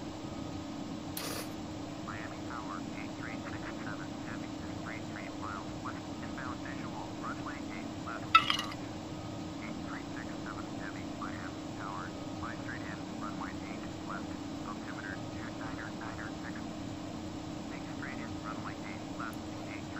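Simulated aircraft engines hum steadily from a flight in Flight Simulator X during Hurricane Irma hurricane-hunting flights. The drone is continuous and low, with muffled voices chattering faintly over it and one brief click partway through.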